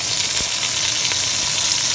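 Beef tips sizzling and frying in hot oil with thyme in a pot, a loud, steady crackling hiss that holds throughout with no talking.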